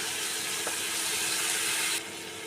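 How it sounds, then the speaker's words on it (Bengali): Spice masala with chopped green chillies sizzling steadily in a hot pan while it is stirred, a dense, even hiss with a brief scrape, dropping a little in level toward the end. "দুটো কুচনো ঝাল কাঁচা লঙ্কা দিয়ে দিলাম, দিয়ে খুব ভালো করে মিশিয়ে নিলাম। একটু নেড়ে নেব।"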